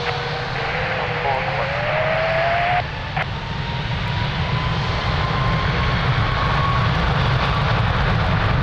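Air Canada 811 airliner taking off from runway 02 at Lisbon Airport, a loud, continuous broadband jet-engine roar with a rising whine that holds steady throughout.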